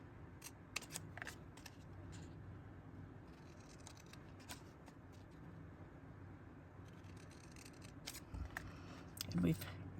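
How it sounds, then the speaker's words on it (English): Scissors snip along printed lines to trim away the white border of paper for an eight-square star card embellishment, giving a series of short, crisp cuts at close range over a low room hum. "So I'm just going to follow the lines and just cut off the white portion."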